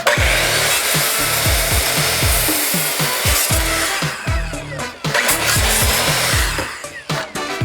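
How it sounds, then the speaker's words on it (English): Wood pieces for a chicken coop base are sawn with loud, close, rhythmic back-and-forth strokes that continue steadily for several seconds with brief pauses. "For the base, we measured and cut our pieces."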